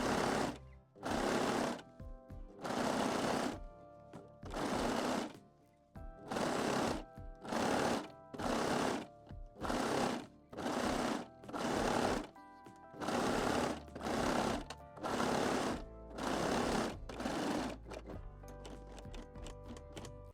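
Cover stitch machine sewing an elastic lace waistband onto panties, running in about fourteen loud, even bursts of rapid stitching separated by short pauses, with no talking.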